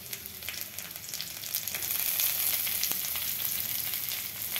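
Carrots and other chopped vegetables, red bell pepper among them, sizzle steadily in a hot pan for an egg biryani, a dense high crackle that swells a little as they go in, with no voices.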